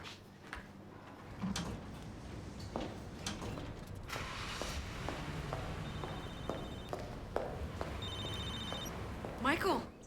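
A telephone rings through an outgoing call, its tones heard briefly over background shuffling and movement noise in a dramatic scene.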